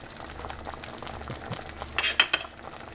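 Lemon juice, sugar and salt are stirred into a pot of Gujarati dal, with soft liquid swishing over a low simmer and a few sharp utensil clinks against the pot near the end.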